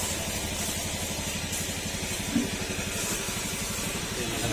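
A Honda Beat FI scooter engine runs with a rhythmic knocking clatter from a faulty connecting rod over its steady idle drone, close by and moderately loud.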